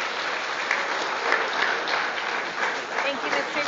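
A crowd gives a round of applause at a 2023 commencement ceremony, a steady, even wash of clapping from many hands, moderately loud and sustained throughout.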